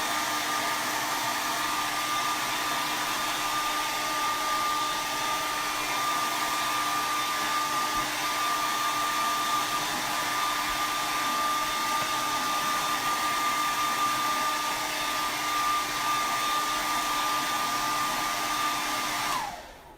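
Hair dryer blowing on Mod Podge-coated napkins, a loud, steady roar with a faint whine running for about twenty seconds before switching off at the end.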